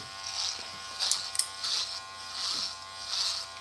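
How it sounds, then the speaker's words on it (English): An electric shaver buzzes close and steady as it trims a beard, its whine swelling and easing in regular passes about every seven tenths of a second, with no voices. "If that means shaving your beard, or trimming it up at least"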